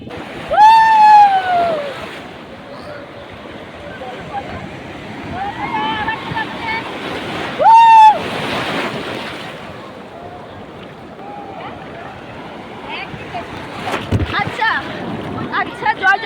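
Sea surf at Digha beach makes a steady, loud broadband rush with wind noise throughout, while voices talk briefly near the start and again around the middle.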